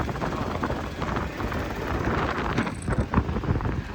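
Strong wind buffeting the microphone outdoors at Bet Dwarka on a rainy-looking day, a steady loud rushing roar with gusty swells throughout, no voices.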